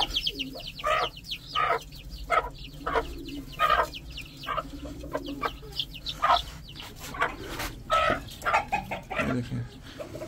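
Hens and a rooster cluck and call in a farmyard, with repeated short bursts of clucking at close range and a little background noise in between.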